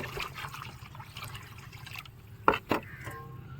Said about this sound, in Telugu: నెక్స్ట్ ఇందాక మనం ఈ వెళ్తే వాటర్ పోయాలని చెప్పుకున్నాం కదా పోసేద్దాం